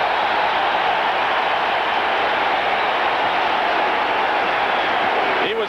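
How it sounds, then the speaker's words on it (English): A big, steady roar from a football stadium crowd at an Eagles–Redskins game, a dense and continuous wall of noise with no breaks. "And now listen to the crowd."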